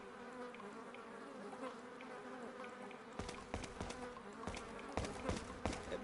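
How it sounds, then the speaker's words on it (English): Flies buzz close past the ear in Resident Evil 4 (2005), a steady insect drone that swells and fades, with sharp clicks and thuds of in-game action breaking in during the second half. "when they have flies buzzing by your bloody ear"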